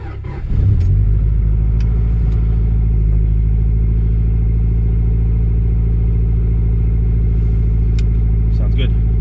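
A Honda Integra engine that has sat for three months cranks and fires up, then settles into a loud, steady, rumbling idle close by, with faint voices in the background.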